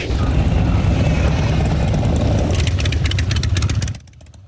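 Motorcycle engines rumble loudly at the 83rd annual Sturgis motorcycle rally in South Dakota, a dense, continuous roar of many bikes close by that drops off sharply near the end.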